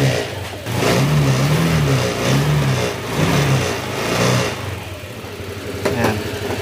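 An overhauled motorcycle engine with a rough, vibrating tone revs in repeated swells, rising and falling, heard up close and fairly loud, with no talk over it.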